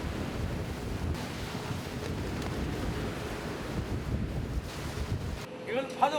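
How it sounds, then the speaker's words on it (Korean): Strong evening wind at sea buffets a pufferfish fishing boat in a steady, loud roar that batters the microphone, with a brief drop near the end. "바람이 거세집니다."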